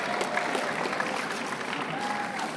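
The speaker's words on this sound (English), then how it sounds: "Can we give him a hand of applause?" A university lecture audience gives a warm round of applause for a speaker, with steady, dense clapping from many hands throughout and faint crowd murmur underneath.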